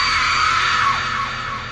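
A strange scream rings out on entering a forbidden haunted house at night, a loud sustained shriek that wavers and slowly fades, heard alone without any talk.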